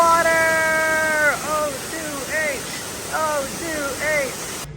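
A waterfall at Africa Rocks in San Diego Zoo rushes in a steady, loud roar, with high wavering calls or voices rising above it at intervals.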